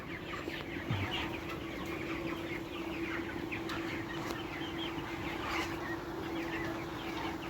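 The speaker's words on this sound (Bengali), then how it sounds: "মুরগিগুলির বয়স আজকে ছাব্বিশ দিন" A flock of 26-day-old broiler chickens on a poultry farm keeps up steady overlapping clucks and chirps, with a constant mechanical hum, likely a ceiling fan, running underneath throughout.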